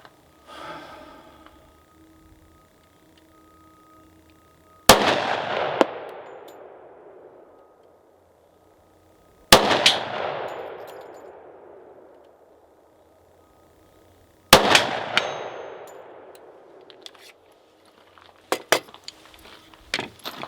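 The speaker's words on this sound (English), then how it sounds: "I'm gonna take a few shots at that 100-yard swinger." Smith & Wesson M&P10 10mm rifle firing at a 100-yard swinging steel target: three sharp, loud shots spaced about five seconds apart, each with a long decaying echo, then a faint pair of metallic cracks near the end.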